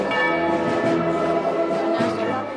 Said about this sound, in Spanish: donde fueron recibidos con repique de campanas